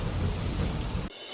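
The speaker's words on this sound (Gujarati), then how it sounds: "બોટાદના બરવાડા અને ગઢડા પંથકમાં ગાજવીજ સાથે વરસાદ વરસ્યો" Heavy rain pours steadily during a thunderstorm in the Botad area villages, a dense, loud roar with low rumbling that cuts off abruptly near the end, leaving a faint hiss.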